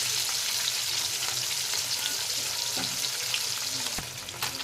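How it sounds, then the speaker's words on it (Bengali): Fish fried in hot oil, giving a steady, dense sizzle throughout with a few brief clatters near the end and no voices. "माछगुलो दिए दिएछि, भालो करे भेजे नेब।"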